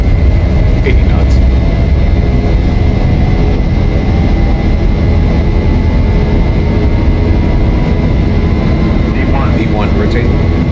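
A simulated Zibo Boeing 737-800 in X-Plane 11 roars at takeoff thrust during the takeoff roll, a loud, constant, close jet-engine rumble with a faint whine and occasional cockpit clicks.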